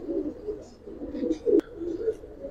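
Silver Giribaz and colouring pigeons coo in low, soft repeated burbles, fairly close, with a brief sharp click partway through and no talk.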